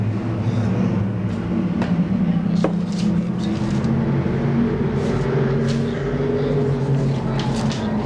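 Race cars at Seekonk Speedway accelerate on a restart, their engines forming a continuous loud drone with rising pitch and occasional brief sharp noises on top.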